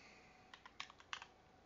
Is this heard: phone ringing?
no